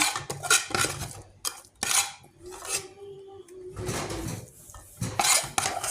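Ground meat sauce for macaroni bechamel being pressed flat in a pan, with a utensil scraping and clinking against the pan in short, irregular bursts, close up.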